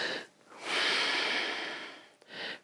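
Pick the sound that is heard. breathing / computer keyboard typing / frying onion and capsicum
breathing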